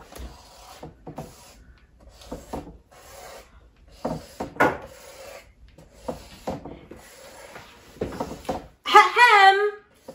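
An eraser rubs out writing on paper in several short scrubbing bursts, a soft raspy friction close by, followed by a brief vocal sound at the end.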